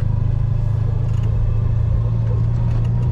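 A Citroën 2CV's small engine chugs steadily as the car pulls away from standstill, a low, even rumble with light mechanical clatter and no talk.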